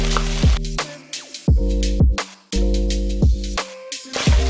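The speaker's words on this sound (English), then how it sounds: "Gonna cook the tomato paste so it's gonna be nice." Fermented soybean paste and tomato paste sizzle in a hot pan while cooking for a spicy chilli crab dish, a steady close hiss broken by repeated sharp clatters and scrapes, with a low steady hum underneath and no talking.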